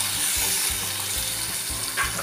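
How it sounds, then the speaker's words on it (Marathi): Finely sliced onion sizzling and frying in a pan for a spicy crab curry, a steady close crackle with light stirring throughout, no voices. "1-2 मिनटं मी व्यवस्थित कांदा हा शिजून घेतलेला आहे."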